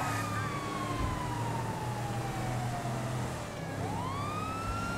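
Police sirens wail in the video game GTA 5, rising and falling in long sweeps over a low engine and traffic rumble, steady and fairly close with no talking.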